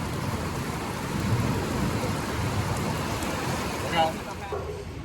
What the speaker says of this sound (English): there's lightning and thunder too.